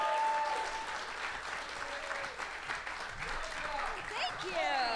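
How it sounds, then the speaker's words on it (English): Loud, sustained applause from a convention audience welcoming a voice actress on stage, dense clapping with some crowd cheering filling the whole stretch. "She is a very talented voice actress who I think deserves a big round of applause from you guys."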